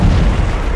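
A frag grenade goes off in the SOCOM 4 video game, a single loud, low, rumbling boom that fills the whole short moment with no talk over it.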